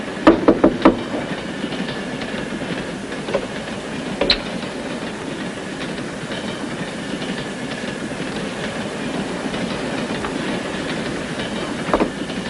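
Train rolling along in a radio drama, with a quick burst of clickety-clack wheel beats at the start, then a steady rumbling roll with occasional louder knocks as the carriages sway.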